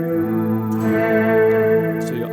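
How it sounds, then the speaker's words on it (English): Sustained guitar notes wash out in lush reverb and shimmering chorus, a ringing tail decaying slowly with faint pick attacks. "or the actual pitch of the guitar as the reverb decays."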